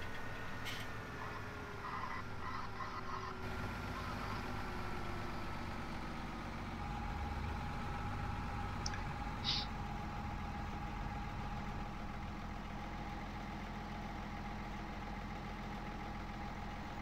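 Tractor engine idling in Farming Simulator 17, a steady low rumble that runs throughout, fairly faint but continuous, with no voices over it.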